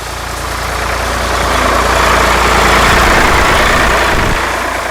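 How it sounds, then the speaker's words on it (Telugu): A sugarcane tractor's heavy engine rumbles past at close range, building to a loud peak around the middle and easing off toward the end, with no talking. "అదొక చెరుకు ట్రాక్టర్ సార్, క్రాస్ అయింది."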